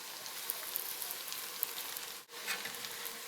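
Cauliflower pakoras in batter frying in hot ghee give a steady, soft hiss and sizzle with tiny crackles, continuous and close, with a brief dip near the end and no voices.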